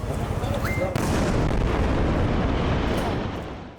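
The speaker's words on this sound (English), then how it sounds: "Explosions also rumbled through the suburbs of Lebanon's capital, Beirut" Deep rumbling booms of explosions from airstrikes roll out over the suburbs of Beirut, Lebanon, heavy and sustained, with a sharp blast partway through before the rumble slowly fades.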